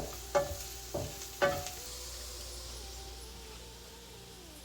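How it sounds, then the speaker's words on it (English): Onions fry with half a spoon of salt in a pan, giving a soft, steady sizzle, interrupted early by two sharp clinks of a utensil stirring against the pan, then settling into a quieter continuous hiss. "Onions are frying. We're going to add half a spoon of salt and continue frying."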